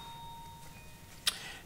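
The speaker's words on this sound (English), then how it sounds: "That's bell you hear is the UPS delivery. They always ring the bell on the side of the building when they deliver." A building doorbell rung by a UPS delivery driver gives one short, bright ding, heard from some distance. It stands out against a quiet room with a faint steady hum.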